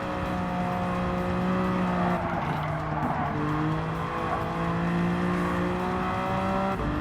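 Engine and exhaust of a BMW Vision GT car in the Gran Turismo 7 racing game, roaring steadily at full throttle with shifting pitch and a brief tire squeal, loud and continuous with no talk.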